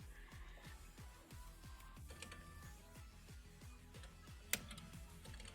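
Steady, fairly quick typing on a computer keyboard, with clicky keystrokes in an uneven rhythm and a single sharper clack near the end, close and alone with no talk over it.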